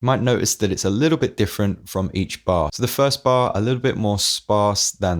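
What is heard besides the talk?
No everyday noise stands out behind the speech.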